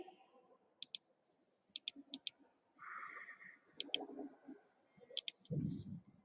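A computer mouse clicks sharply and close by, in single and double clicks spread across several seconds, with a few faint low shuffling sounds between them and no speech.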